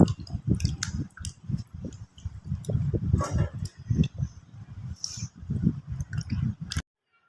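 Cut tubers being washed in water for a mashed tuber dish: repeated splashing and squishing as the pieces are rubbed and swirled, close and irregular, with sharp drips and clicks, stopping abruptly near the end.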